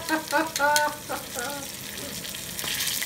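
Soft shell crab frying in very hot oil, a dense continuous sizzle and crackle close by, with voices talking over it near the start.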